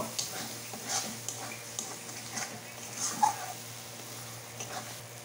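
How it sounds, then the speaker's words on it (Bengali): Paneer and onion masala sautéing in a pan, a soft, continuous sizzle with light scraping and stirring strokes scattered through, fairly quiet and close, with no talking. "তা আরও কষিয়ে নেব"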